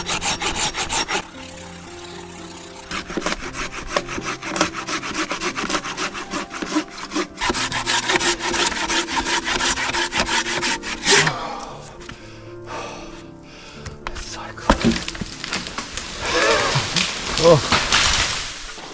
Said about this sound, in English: This one's a bit serious for the handsaw.